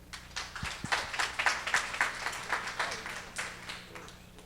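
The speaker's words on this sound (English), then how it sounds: "Give them a round of applause." A modest audience at a tech meetup gives a short round of applause, a thin patter of individual claps that rises and then tapers off, fairly faint and distant.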